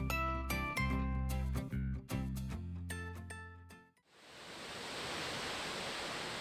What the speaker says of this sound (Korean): 포효하듯 힘차게 쏟아지는 천지 폭포